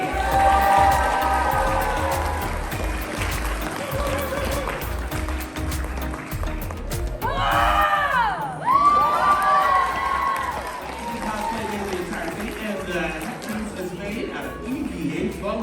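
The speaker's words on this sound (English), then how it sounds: "keep that round of applause going for Aiken Cosplay as Super Broly." An audience at a comic con cosplay contest in Lakeland, Florida claps and cheers under an announcer's amplified voice, a steady wash of applause with shouts and whoops rising briefly midway.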